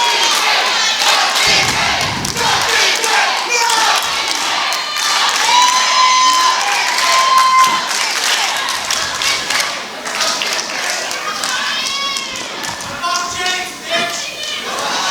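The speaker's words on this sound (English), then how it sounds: "there's some commentary from the crowd going on as well" Wrestling event crowd shouting and jeering, many voices calling out loudly in an echoing venue, with individual yells and cheers rising over a continuous crowd roar.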